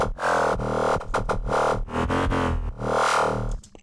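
Gritty synth FM bass with an automated bandpass filter sweeping its tone, a dense loud sustained growl broken into choppy pulses and short gaps, alone without voice.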